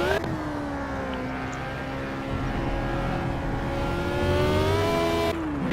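A Lotus Type 25 race car with a Climax engine in the Project Cars racing game holds a loud, sustained high-revving drone, pitch sagging slightly then climbing, with no talking.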